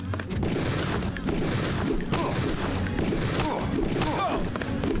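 Dense gunfire from attacking enemies in the video game Deus Ex forms a continuous crackling barrage with sharp bursts and impacts, loud and unbroken throughout.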